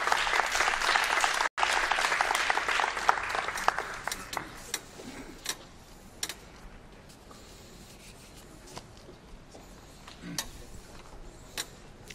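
An audience at a documentary film festival gala claps to welcome a speaker to the stage; loud dense applause for a few seconds, then thinning to scattered claps and quiet rustling.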